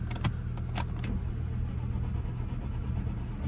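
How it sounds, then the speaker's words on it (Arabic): Starter motor cranking on a Mercedes car left abandoned for years, a steady mechanical churn with a low rumble and a few sharp metallic clicks near the start, close and continuous. "ايوه بدا يدق سلف"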